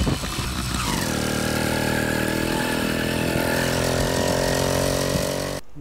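Motorised bike engine running steadily and loudly while towing a trailer, a close, continuous buzzing drone with a rising pitch early on that then holds steady until it cuts off near the end.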